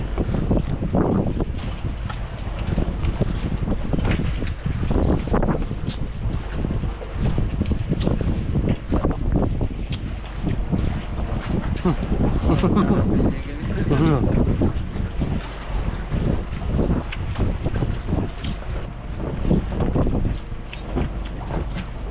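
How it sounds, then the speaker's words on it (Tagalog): Strong typhoon wind gusts steadily across an open-air boat workshop where a propeller, shaft and rudder are being fitted, a dense continuous roar buffeting the microphone throughout, with people talking faintly beneath it. "ang lakas na ng hangin"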